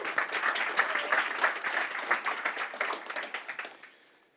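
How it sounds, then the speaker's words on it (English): Conference audience applauding a speaker taking the stage at NG-BE 2024, a JavaScript developer event: a burst of many hands clapping, strong at first, then thinning and fading out to near silence. "give a round of applause to Miro"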